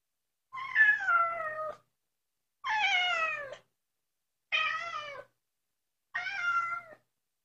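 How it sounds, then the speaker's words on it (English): Four separate kitten meows, each about a second long with short silences between them, clear and close with no other sound around them. "some feline vocalizations, particularly purring and meowing"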